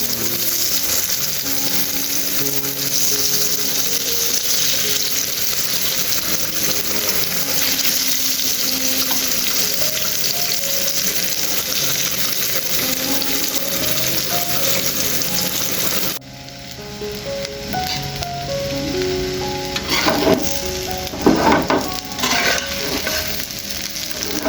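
Eggplant slices sizzle loudly in hot oil on a stove, a continuous frying hiss that suddenly drops in level partway through, followed by a few scattered clinks and knocks.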